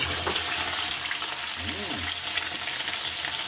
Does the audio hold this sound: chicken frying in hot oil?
yes